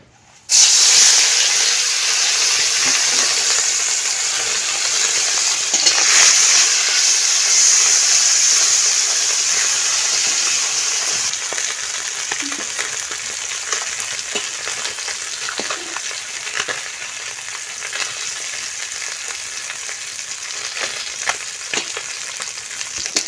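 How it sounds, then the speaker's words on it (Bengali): Small fish sizzle and crackle steadily in hot oil in a wok, a loud, continuous frying hiss with occasional sharper pops and spatters, no voices over it. "এখন মাছগুলো আমি দিয়ে ভেজে নেব।"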